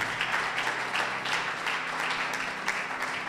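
A church congregation claps for Jesus Christ in a burst of rhythmic, fairly loud applause, the claps falling in loose regular pulses with faint sustained musical tones underneath.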